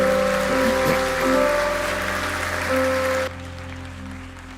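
A church congregation applauds in a dense, steady wash of clapping for about three seconds during an evening service, then it cuts off abruptly into quieter room sound.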